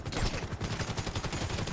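Gunfire in the online heist mode of Grand Theft Auto V: a rapid, dense automatic burst of steady, evenly spaced shots, loud and close, filling the whole moment with no talk.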